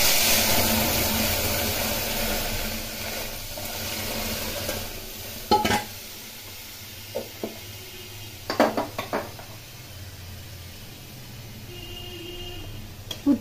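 Boiled dal goes into hot oil tempered with black cumin and dried chillies, a sizzle that settles into a low simmer, with sharp clinks of a spoon against the pot and brief stirring scrapes.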